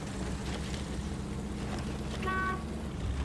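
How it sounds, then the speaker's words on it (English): A stock Chevy Apache 6X6 truck horn in SnowRunner gives a short, thin, tonal toot near the end, heard over a steady low engine rumble. "Horn's a piece of garbage."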